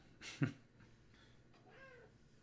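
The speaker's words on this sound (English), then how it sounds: "I have returned with my cat." A house cat meows close by, one sharp loud meow near the start followed by softer, drawn-out trilling mews, with a quiet room behind.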